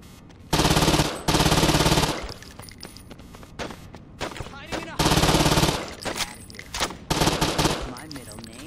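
Automatic gunfire in a Saints Row 2 cutscene, long loud sustained bursts broken by short pauses, with glass breaking and scattered shots between them.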